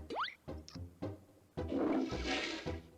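A cartoonish toilet flushes in the video game Banjo-Kazooie, a loud whooshing swirl rising after a few short game sound effects and blips, running steadily to the end without talk.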